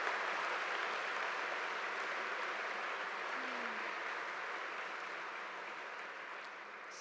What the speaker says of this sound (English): Can we have one more round of applause for all of the amazing music from Washburn tonight?